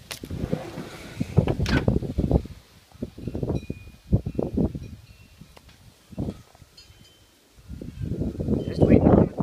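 Santa Ana wind storm gusts roar outside in bursts beside a huge tree, loud buffeting surges rising and falling with brief lulls between them, and faint chimes ring in the background.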